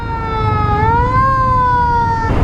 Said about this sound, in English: Seems to be a few ambulances out today.